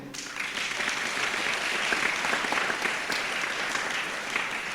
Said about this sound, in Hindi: जोरदार परमेश्वर के लिए ताली बजाएंगे